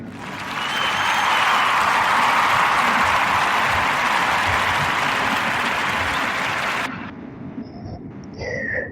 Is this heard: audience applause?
yes